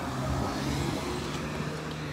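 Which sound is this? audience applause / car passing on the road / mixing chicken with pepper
car passing on the road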